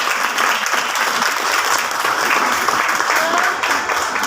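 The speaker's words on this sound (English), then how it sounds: "give a huge round of applause for all our children and the principals" A school audience of parents and colleagues applauds children and principals at an Independence Day and Janmashtami celebration, with continuous, crowded clapping filling the whole stretch at an even, moderately loud level.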